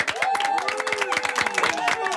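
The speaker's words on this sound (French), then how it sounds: "Applaudissements pour Diane." Applause for Diane, the new Miss France, on a morning radio show: quick, bright handclaps from a small group, under voices and cheerful vocal sounds.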